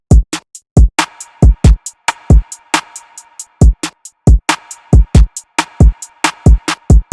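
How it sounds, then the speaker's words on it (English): Programmed FL Studio trap beat, with a layered clap and snare hitting hard on a steady rhythm alongside quick hi-hats and sharp drum hits, loud and close with no voices. "I layered a clap with a snare just so we could have some sort of variation"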